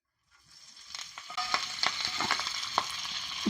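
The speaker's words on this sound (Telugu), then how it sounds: "ఇప్పుడు అది వేడి అయింది కదా, ఇగో శనగ వేస్తున్నా." Chana dal tipped into spoonfuls of hot oil in a pan, crackling and sizzling up after a brief silence, with sharp pops and spitting over a steady close fry.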